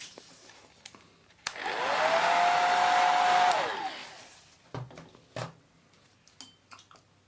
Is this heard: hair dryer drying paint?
yes